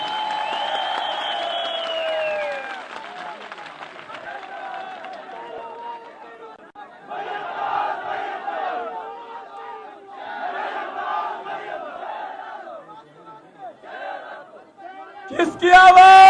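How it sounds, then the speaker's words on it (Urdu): A crowd at a PMLN political rally in Gilgit Baltistan claps and cheers for Maryam Nawaz Sharif, a sustained wash of applause and shouts running under an amplified voice, then a louder burst of cheering at the end. "میں بہادر باپ کی بیٹی مریم نواز شریف کو آپ کی تالیوں میں ایک بار پھر خوش آمدید کرنا چاہتا ہوں."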